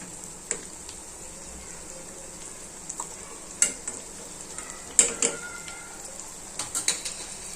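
A homemade dish cooking in a pan, with a steady, close sizzle and scattered sharp clinks and scrapes of utensils, with no voices.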